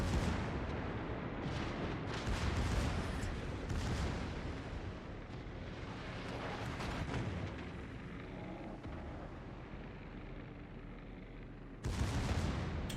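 Warship secondary guns firing in the naval game World of Warships aboard Flandre, a continuous loud barrage of booming shots over a rumbling bed, with a fresh heavy salvo near the end.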